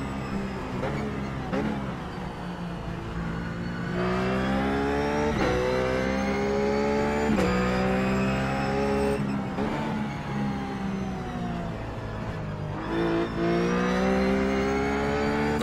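A Ruf GT3 race car in iRacing at Sonoma revs hard through several gear changes, its engine note climbing again and again in a steady, loud whine with brief dips at each shift.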